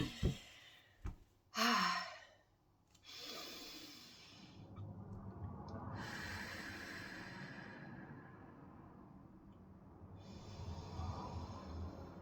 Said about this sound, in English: Why don't we all take a nice deep breath?